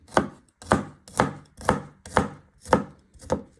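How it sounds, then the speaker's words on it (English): A knife chops rhythmically on a cutting board, seven evenly spaced, crisp thuds close up with no talking. "You're going to turn it around and you just keep chopping it into little pieces."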